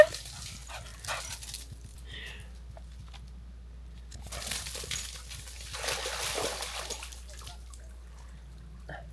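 Max the dog splashing and sloshing through water outdoors on a trail run, with bursts of wet splashing around 1 second and again from about 4 to 7 seconds over low wind rumble.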